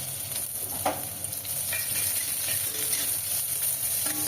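Onion, ginger and garlic fry in oil with cardamom, cloves and a piece of cinnamon, giving a steady, close sizzle. Occasional stirring scrapes break through, and no one speaks.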